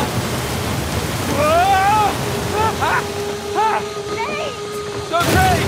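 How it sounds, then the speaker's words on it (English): A waterfall in the Uncharted video game with Nathan Drake gives a steady, loud, broadband rushing roar that runs through the whole moment, while voices shout over it. "Waterfall! Waterfall!"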